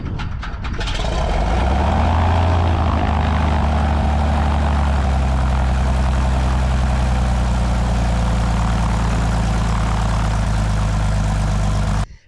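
A Cessna 182's 230-horsepower Continental piston engine runs loud and close, a steady low droning idle with propeller throb that holds level before cutting off abruptly at the end.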